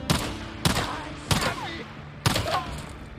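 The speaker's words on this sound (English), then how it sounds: "Shotgun." Four heavy shotgun blasts from the Days Gone video game, spaced roughly evenly apart, each a sharp loud boom with a short decaying tail, and nothing else prominent between them.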